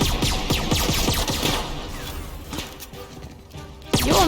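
Gunfire aimed at the player during a fight in The Outer Worlds: a dense, fast clatter of shots and impacts, loud and close, thinning out midway before a final sharp burst.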